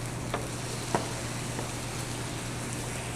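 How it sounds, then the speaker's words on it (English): Vinegar hits a hot pan while Greek flatbread toppings cook, giving a steady, even sizzling hiss throughout with a couple of faint ticks and no voices. "When the vinegar hits the pan, sometimes it gets a little intense."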